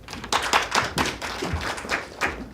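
A seminar audience claps to welcome the next speaker, a close, uneven patter of individual hand claps and taps rising and falling over a few seconds.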